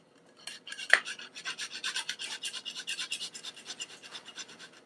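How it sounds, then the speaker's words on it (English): Frozen ginger root grated by hand in a home kitchen, a steady run of close, dry rasping strokes with a sharp knock near the start. "this piece of ginger just froze together pretty big. So I will just grate the whole thing."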